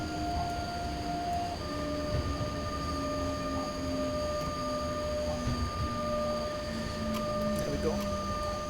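A heavy coal freight train in the SimRail railway simulator grinds down under braking, with steady tonal squeals and hum sliding slowly downward over a constant rumble until it stops.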